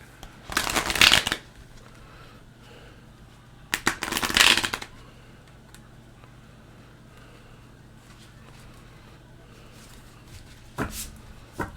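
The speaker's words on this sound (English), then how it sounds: "That shuffle didn't feel good." Tarot cards are shuffled in two crisp, close bursts of riffling, each about a second long, followed near the end by a brief final flick, with quiet room tone between and no talking.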